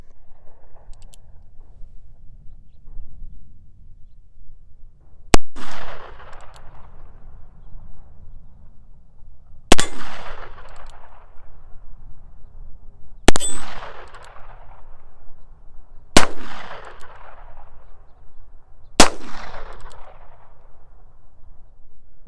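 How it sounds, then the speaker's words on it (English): Five loud, sharp revolver shots from a small Heritage Barkeep with a very short barrel, spaced a few seconds apart outdoors, each followed by a ringing metallic clang from a struck steel plate that fades slowly. "let's go see how the gun shoots."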